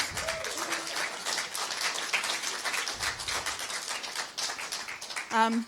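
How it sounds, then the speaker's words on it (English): A church congregation at a Youth Sunday service applauding the youth, a dense spread of many hands clapping across the room, with a voice briefly heard at the start and a short burst of sound at the end. "Can we give the youth another round of applause?"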